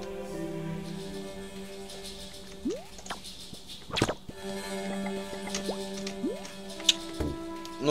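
Bubbles in the video game Wuppo make a series of wet dripping, plopping and gurgling pops over a soft tonal backdrop, with scattered rising bloops and a sharp splash midway.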